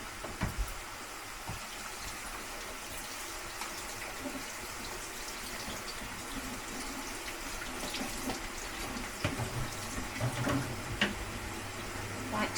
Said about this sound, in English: we're just going to rinse it off just in case there's any grit in there